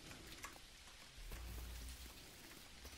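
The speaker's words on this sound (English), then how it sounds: "So now it's raining" Faint, steady rain patters continuously in the multiplayer video game Dinkum, a soft even wash with no voices over it.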